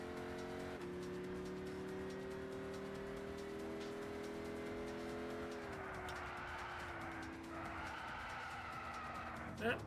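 Car in Gran Turismo 6 braking too hard, its engine holding a steady droning pitch that drops abruptly as tires squeal under heavy braking, with someone talking over it and a brief knock at the end.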